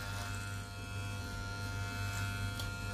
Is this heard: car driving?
no